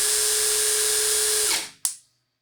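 Electric drill spinning a Toyota 4AFE fuel-injected distributor on a test, a loud steady high whine held for about a second and a half, then spinning down to silence with a brief sharp burst near the end.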